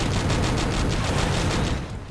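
Gauss cannon firing in the Descent Vertigo game, a dense, steady stream of rapid crackling shots across the whole stretch that tails off at the end, with no talk over it.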